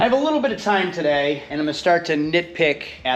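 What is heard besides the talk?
No everyday noise stands out behind the speech.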